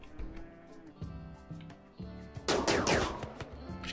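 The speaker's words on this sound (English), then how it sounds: "I hear gunfire." Gunfire in RimWorld during a tropical rainforest map: a sudden burst of rapid shots after about two seconds, over a bed of steady, tonal game music, fairly close and loud.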